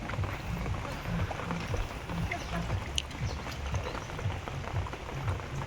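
Steady rain patters onto an open fishing boat that is filling with rainwater, a dense hiss of drops close by with low thuds in the hull; children and other voices talk and play faintly underneath.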